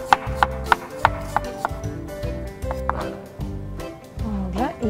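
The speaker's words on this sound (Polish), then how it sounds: "Jabłuszka musimy pokroić." A knife chops apples into cubes on a board in a home kitchen, making a quick series of close, crisp taps with a slightly irregular rhythm, while soft voices are heard in the background.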